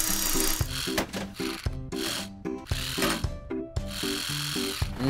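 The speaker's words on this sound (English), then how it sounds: "A screwdriver will do the job." A screwdriver works on a robot in a kids' car repair video game, giving quick, loud ratcheting and mechanical clicks and whirs in short bursts with brief pauses, alone and without speech.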